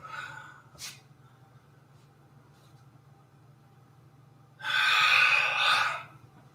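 Deep yoga breath: a quick sharp inhale early on, then a long rushing exhale lasting over a second, close and breathy over a faint low hum.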